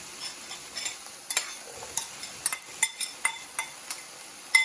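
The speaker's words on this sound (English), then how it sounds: "I'm going to stir up my peppers here, give them a good stir." Peppers sizzle in a pan while a utensil stirs and scrapes, giving a string of light clinks and scrapes over a soft, steady fry.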